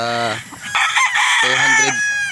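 Roosters crow loudly and close by at a gamefowl farm in Roxas, two long strained calls with a brief gap, over a busy background of other fowl.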